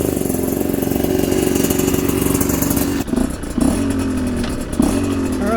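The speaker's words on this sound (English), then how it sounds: "That's why we're taking it out for this little run now, just to get a little bit of time on the engine" A Chinese dirt bike engine pulls away in first gear, a steady close putter that shifts pitch about halfway through as the revs drop and rise again.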